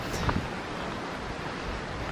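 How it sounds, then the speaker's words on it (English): Steady strong wind buffeting the microphone on a mountain summit in the San Francisco Peaks, Arizona, a continuous broadband roar with a few brief knocks near the start. "You can tell how windy it is"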